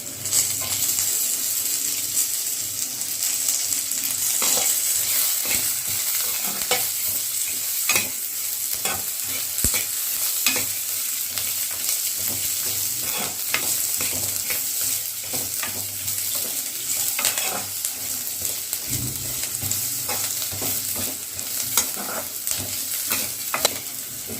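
Garlic fries in a pan for a restaurant-style mushroom curry: a constant close sizzle broken by frequent clicks and scrapes as it is stirred.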